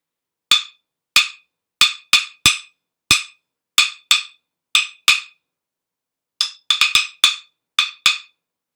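Sharp, hollow knocks on a wooden block ring out alone in a loose rhythmic pattern. There are about fifteen crisp strikes, close and loud, with brief pauses between phrases.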